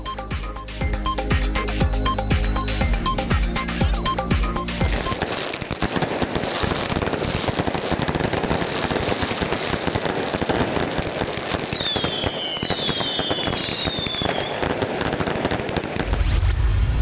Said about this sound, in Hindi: आबाई इलाके सवात में जश्न, आतिशबाजी का शानदार मुजाहिर